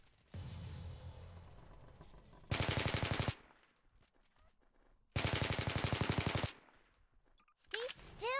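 Two long bursts of rapid automatic gunfire in a video game, each lasting under a second, loud and rhythmic, separated by quieter game ambience with electronic chirps near the end.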